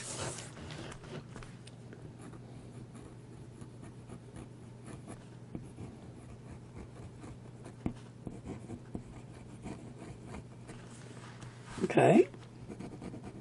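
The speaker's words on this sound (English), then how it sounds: "let's go ahead and start with the Tomo River paper and see how this pen writes" A fountain pen nib scratches softly and steadily across thin Tomoe River paper for several seconds, close and quiet, with a brief louder handling noise near the end and a single word spoken.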